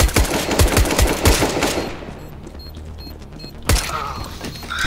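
Gunfire in Counter-Strike: Global Offensive: a rapid burst of automatic shots rings out loud and close, then fades into a quieter lull with mechanical creaks, and a single sharp shot cracks out near the end.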